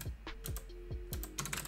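Computer keyboard typing while writing Python code, a quick irregular run of close, crisp key clicks with short pauses between bursts.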